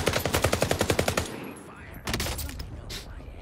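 Rapid automatic gunfire rattles loudly in Call of Duty Warzone on Rebirth Island, a fast burst of shots for over a second, then scattered single cracks and distant firing with faint talk.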